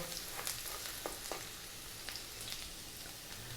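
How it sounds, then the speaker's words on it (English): Garlic and ginger fry in hot oil for chicken fried rice, a faint, even sizzle with a few soft crackles and pops throughout and no talking. "Next up, we're going to drop in our garlic and ginger. And again, a few seconds to add to the flavor of the oil."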